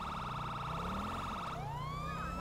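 A police siren in GTA 5 wails continuously, loud and close, its steady tone shifting into a rising, sweeping pitch partway through.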